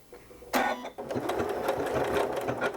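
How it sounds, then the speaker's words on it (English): A sewing machine stitches a utility stitch on quilt-as-you-go fabric blocks, starting after a brief pause and then running in a fast, steady mechanical patter close to the microphone. "Okay, let's try another stitch. Let's try 14. So utility stitch 14."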